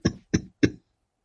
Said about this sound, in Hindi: ये खांसी लगता है एक दिन मेरी जान लेकर ही रहेगी